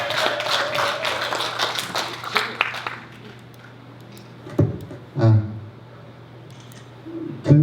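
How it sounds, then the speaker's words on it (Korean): A short burst of audience clapping at a sustainable development town hall meeting in South Korea that quickly fades, followed by quieter room noise and a few isolated thumps and taps. "큰 박수 부탁드립니다."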